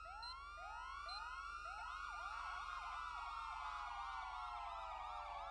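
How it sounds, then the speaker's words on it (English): A police siren wails in rising sweeps, then switches to a faster, overlapping yelp pattern; loud, continuous, and without any voices. "go ahead and activate your primary siren again and change tones."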